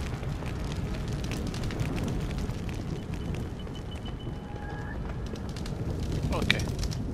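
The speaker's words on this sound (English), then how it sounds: "A lot of fire." Fire roars steadily in Deus Ex: Human Revolution, a dense, continuous crackling rush that fills the scene with a few faint higher tones and clicks drifting over it.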